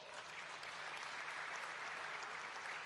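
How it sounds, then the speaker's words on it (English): A crowd claps steadily and evenly at a transport minister's speech on restoring rail service, with the applause dense and continuous throughout and no voices rising above it. "give them a good round of applause"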